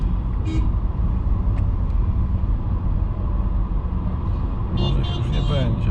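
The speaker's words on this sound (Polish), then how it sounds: "Już auta jadą." Cars roll along a road in Giza, Egypt, their steady engine and tyre drone close and continuous, with a brief higher whine near the end as a vehicle passes.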